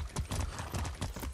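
Horse hooves clip-clop steadily in the Far Cry 6 video game, a quick even rhythm of thuds at close range with no talk over them.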